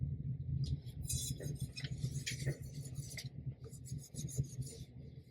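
An alcohol wipe rubs and rasps over a freshly sanded tumbler, a steady close scrubbing with scattered faint clinks, going on without pause and with no talk.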